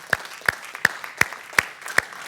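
A church congregation claps in unison, six sharp claps in a steady rhythm, with light crowd noise behind them and no talking.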